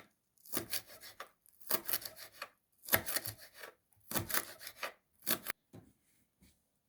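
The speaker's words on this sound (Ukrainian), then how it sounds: "Беру частинку кропу і теж дрібнесенько нарізую" A knife taps and scrapes quickly on a cutting board, finely chopping dill, in several short bursts separated by brief pauses, close and clear.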